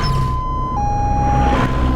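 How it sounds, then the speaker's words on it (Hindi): A loud electronic ambulance siren holds a piercing high tone, dips slightly in pitch, then continues before fading out. "एम्बुलेंस भी आ गई।"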